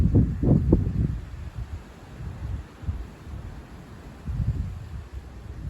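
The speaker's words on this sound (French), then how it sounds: "c'est par rafale, donc vent rafaleux." Gusty night wind in a December storm comes in bursts and rushes with blowing leaves, louder at the start and again near the end, rumbling with microphone buffeting.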